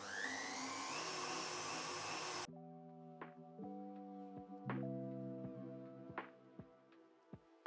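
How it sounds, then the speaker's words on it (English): An electric mixer whisks Swiss meringue buttercream, whirring steadily for about two seconds before stopping, followed by quieter, intermittent bursts of motor hum that start and stop several times. "So let's get whisking."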